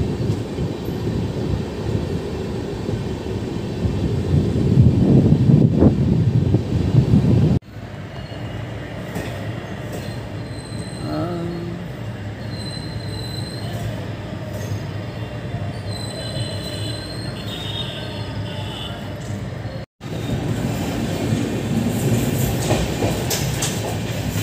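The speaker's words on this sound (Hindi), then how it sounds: "ट्रेन अभी बरेली कैंट जंक्शन पहुंच रही है" A passenger train, the 03423 Bhagalpur–Haridwar special approaching Bareilly Cantt Junction, rumbles steadily along the rails with loud rolling noise and high wheel squeals, heard from on board and broken by brief abrupt cuts.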